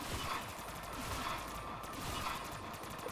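Rapid automatic gunfire in a zombie-shooting video game, a dense continuous rattle of shots throughout, fairly quiet and steady with no pauses, no voices.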